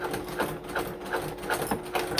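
A sewing machine runs quick basting stitches around a lining seam, its needle chattering in steady, rhythmic bursts roughly every half second, close and continuous with no talking.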